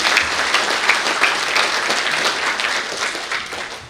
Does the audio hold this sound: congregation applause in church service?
yes